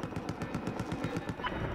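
Sniper rifle fire in Battlefield 2042 amid a dense, rapid run of gunshots, loud and rhythmic, with no talk over it.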